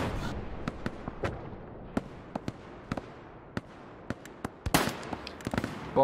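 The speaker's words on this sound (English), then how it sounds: "I will put bombing run on that direction." A bombing run in the World War II shooter Hell Let Loose produces scattered distant blasts and sharp cracks at irregular intervals, with one heavier, louder impact near the end, against a low rumbling battlefield background.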